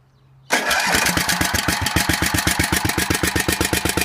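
A Snapper lawn mower engine at half throttle cranks briefly after a low hum, then catches and runs with a loud, fast, steady chugging pulse, heard up close.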